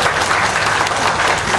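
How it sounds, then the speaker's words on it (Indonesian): A crowd at a Kenduri Cinta gathering with Emha Ainun Najib and Kiai Kanjeng claps loudly and steadily, dense applause filling the short stretch without speech. "tepuk tangan"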